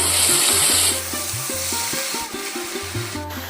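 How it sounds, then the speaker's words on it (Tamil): Drumstick leaves tipped into a pan of boiling water set off a loud burst of steady sizzling and bubbling, then give way to a softer churning boil with light stirring clatter. "இப்போது நம்ம ஆல்ரெடி க்ளீன் பண்ணி வச்சுருக்க முருங்கைக்கீரை சேர்த்துருவோம்"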